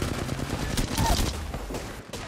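Rapid, overlapping gunfire from Apex Legends rattles in dense bursts throughout, loud and close, with a brief dip near the end before shots resume.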